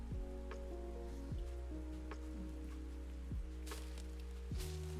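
Rain falling in the survival video game Ark: Survival Ascended, a steady patter of drops spread evenly across the whole stretch alongside low droning game ambience, with no one talking.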